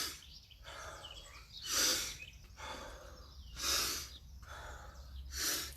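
Deep breathing after exercise, with three loud, rhythmic breaths spaced about two seconds apart, heard close up over a low background hum.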